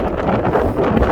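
Strong wind buffets the microphone on a mountain ridge along Corsica's GR20 trail, a loud, continuous rushing roar with gusty swells and no voices.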